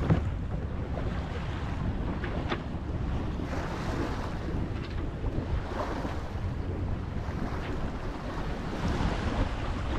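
Steady wind of about 30 knots roars across the microphone on a sailboat at sea, over broadband rushing water and surf, a continuous blustery wash with no voices.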